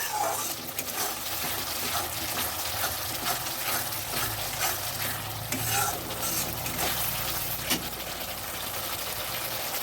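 Mixed vegetables, cooked restaurant style with a tomato paste, frying in a pan as capsicum goes in, giving a steady close sizzle with scraping and stirring clatter throughout and no talking.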